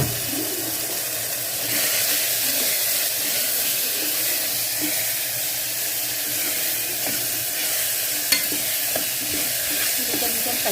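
Spices with turmeric frying and being stirred in a pan, a continuous close sizzle with soft spoon scrapes and a small knock near the end.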